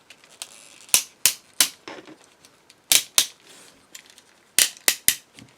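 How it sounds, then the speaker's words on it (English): Ratchet joints on a transforming robot toy clicking in short sharp snaps, singles and quick pairs spaced irregularly, close and crisp against near silence. "Nice tight ratchets."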